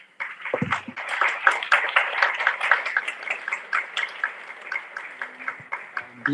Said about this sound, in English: So I would like to give a round of applause to our speakers.